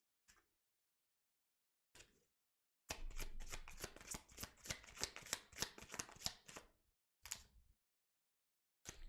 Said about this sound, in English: I can't even shuffle my cards.